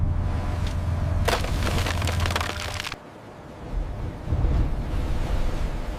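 Waves crash against sea ice around a ship on an Antarctic voyage, a loud, dense roar with sharp cracking bursts and heavy low rumble, dropping briefly before surging again; wind buffets the microphone throughout.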